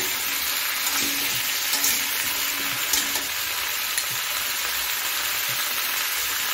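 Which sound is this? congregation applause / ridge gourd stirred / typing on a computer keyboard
ridge gourd stirred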